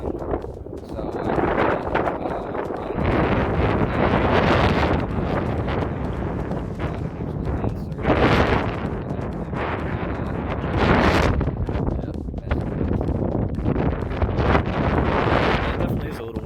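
Strong outdoor wind buffets the microphone beside a truck, heavy rumbling gusts swelling and easing throughout, with someone talking under the noise.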